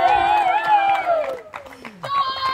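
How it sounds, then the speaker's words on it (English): Applause and cheering from the crowd after the Fast Fours v Western Vipers championship match at the Melbourne Championships, with claps and shouts rising and falling around a brief quieter gap. "Give them a round of applause, please"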